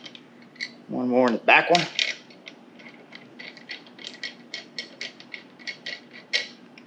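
Bolts being started on a Go Power Sports MB200 minibike during a face lift: a run of small, light metallic clicks and ticks repeats steadily after a short burst of nearby speech.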